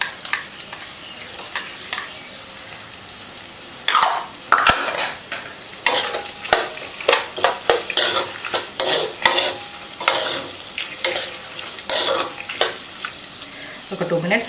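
Ginger garlic paste frying in a curry pan, a low sizzle under repeated rhythmic scraping and stirring strokes that grow busier after the first few seconds.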